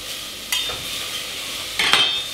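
Garlic and onion fry in a pan for a lamb and red kidney bean tajine, with two brief scraping stirs standing out over a faint, continuous sizzle.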